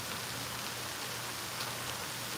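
Light drizzling rain outdoors at a pond in South Louisiana, a steady even hiss of fine drops with no gaps or talk.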